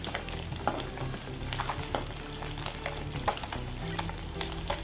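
Anchovies frying in oil over a full gas flame while being turned in the pan: a constant crackling sizzle overlaid with frequent clinks and scrapes of a spatula against the metal, close and steady throughout.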